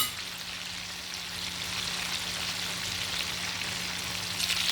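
Large tilapia fish frying in hot oil in a pan, a steady soft sizzle and crackle that holds evenly throughout, close and fairly quiet with no voices.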